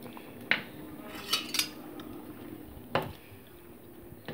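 Turmeric stirred into vegetable khichdi in a pot, quiet and close, with a few sharp clinks of a spoon against metal over a soft background.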